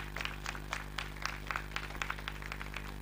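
Scattered hands clap in an uneven patter, fairly quiet, over a low, constant hum, at a film trailer launch event.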